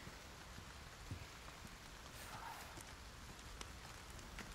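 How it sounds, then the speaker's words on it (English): Steady, faint rain falls in the Resident Evil 4 Remake video game, a constant soft hiss with scattered patter throughout. "He really doesn't like that rain, huh?"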